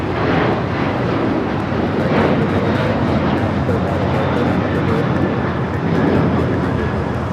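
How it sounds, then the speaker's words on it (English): American Airlines Boeing 737-800 in oneworld livery taking off from Los Angeles International Airport, a loud sustained jet engine roar that fills the whole stretch, steady and close, with speech faintly under it. "This is American Airlines 1899 taking off to Indianapolis on the 737-800 in the One World livery."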